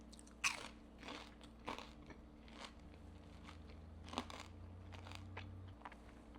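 Repeated crisp bites into crunchy homemade carnivore chicken nuggets coated in beef gelatin, close up with sharp cracks followed by chewing, no talking.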